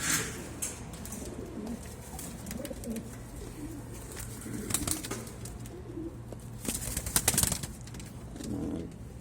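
Pigeons coo softly and repeatedly from a loft holding a pair of chicks, with low murmuring calls, a few brief wing flaps and rustles, and faint background noise throughout.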